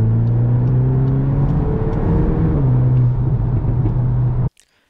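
A Volkswagen Golf 8 R engine revs with a steady, loud, close warm hiss and rumble that swells slightly before cutting off abruptly near the end, alone without talk.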